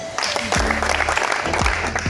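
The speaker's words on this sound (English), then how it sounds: "Let us clap for him." Short burst of audience applause at a school-materials donation event, loud and close, with a crowd clapping together.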